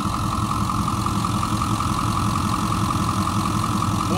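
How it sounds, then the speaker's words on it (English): A 2009 Ford F-350 utility truck with a Power Stroke V8 turbo diesel idles steadily, a close, even, loud rumble with a low mechanical clatter and no talk over it. "Power stroke V8 turbo diesel. Sounds really good."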